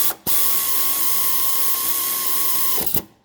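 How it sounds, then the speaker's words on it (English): A pneumatic air ratchet with a 15mm socket turns the stabilizer link nut on a 2002 Honda CR-V. Its loud, steady whine runs for about two and a half seconds, then cuts off sharply. No voices are heard. "Slide your air ratchet in, get your 15mm and adjust it to a comfortable position, and then you can hit it."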